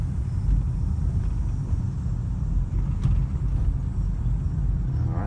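A car driving slowly during a driving lesson gives a steady, loud low rumble throughout, with no distinct braking sound standing out.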